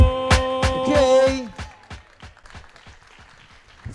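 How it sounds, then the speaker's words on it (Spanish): Crowd applause at a freestyle rap battle: a few loud, sharp claps open, then the clapping thins into scattered, fading claps. "Fuerte el aplauso"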